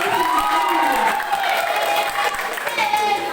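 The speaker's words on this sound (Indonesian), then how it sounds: "Mari kita berikan aplaus" A school audience at a student council election vote count claps loudly and continuously, dense applause filling the room with a few cheers mixed in.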